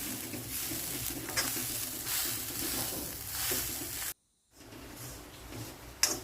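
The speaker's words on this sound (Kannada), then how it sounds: "ಇದರಲ್ಲಿ ಈಗ ಹಾಲು ಬರ್ತದೆ, ಎಣ್ಣೆ ಬರುವ ತನಕ ಇದನ್ನು ಕಡಕ್ಕಾಗಿ ಹುರ್ಕೊಳ್ಬೇಕು." An onion medicine mixture fries and is stirred in a pan for an Ayurvedic home remedy. It is cooked until the oil separates, giving a continuous close sizzle with scraping stirs and a brief gap before the frying resumes.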